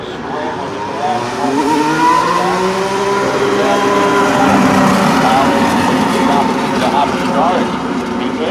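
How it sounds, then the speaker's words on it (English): A race car engine fires up and rolls toward the track before qualifying, a steady droning, slightly rising engine note under continuous talk throughout. "The engine you hear firing and rolling towards the track is Max Chilton."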